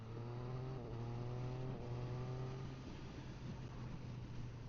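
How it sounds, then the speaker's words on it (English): A motorcycle with a quick shifter accelerates hard with wide-open throttle, engine droning steadily and pitch climbing before several abrupt clutchless gear changes drop the tone, heard fairly close and continuous with wind noise. "The reason why that sounded crap is because I wasn't doing enough revs to justify the gear changes."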